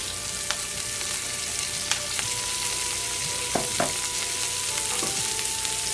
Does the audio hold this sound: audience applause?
no